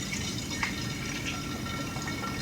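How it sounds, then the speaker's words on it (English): Homemade almond milk pours into a milk jug with a steady liquid filling sound, a continuous close pour with small splashy drips, alone without talk. "I'm going to go ahead and I'm going to pour my milk in."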